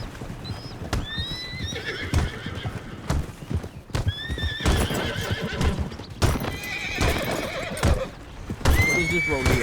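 Horse neighs and whinnies in a video game over steady clip-clop of hooves, with several bright whinny calls scattered through a busy, fairly loud mix and some faint talk underneath.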